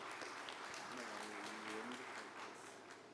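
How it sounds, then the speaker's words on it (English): A round of applause from the audience at a sustainable energy conference session, fairly quiet and steady clapping, with a faint voice or tonal sound briefly rising through the middle. "Kindly, let's give him a round of applause."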